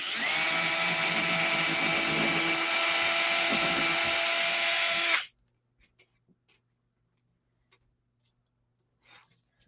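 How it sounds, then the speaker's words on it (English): An electric drill bores steadily all the way through a piece in a craft project, a loud, constant whine for about five seconds that cuts off abruptly, followed by near silence with a few faint clicks. "I'm just going to put my drill right there, and I'm going to go all the way through."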